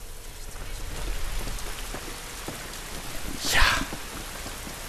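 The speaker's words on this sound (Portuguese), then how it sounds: "Esta chuva não nos vai ajudar nada" Steady rain pours over an outdoor scene in The Last of Us, a dense hiss with a brief louder gust near the end and a single short spoken word over it.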